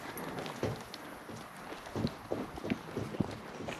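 Horses walking outdoors while being driven in a string, hooves clip-clopping in an irregular rhythm of soft, fairly distant thuds over steady wind noise.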